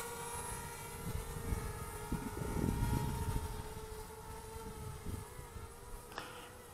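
A DJI Spark drone carrying a RunCam II camera on a GoPro-style mount flies outdoors in a light breeze, giving a steady high-pitched rotor whine with harmonic tones that swell and fade slightly, with wind rumble underneath and no voices.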